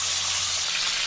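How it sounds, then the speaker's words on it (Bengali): Broiler chicken pieces fry in hot oil, giving a brief, even, close sizzling hiss with no pauses. "তেলটা গরম হয়ে গেছে, এখন আমি চিকেনগুলো ছেড়ে দিব। চিকেনগুলো ভাজতে দিয়েছি।"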